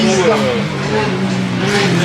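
Formula 1 V8 racing engine at a motor festival in Croix-en-Ternois, a loud sustained howl with shifting pitch, heard under talk.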